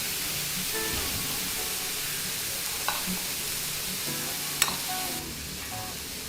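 Shrimp with turmeric and red chili powder sizzles steadily in a hot pan, a loud, even frying hiss close up, with a few light scraping stirs as it is mixed, no talking.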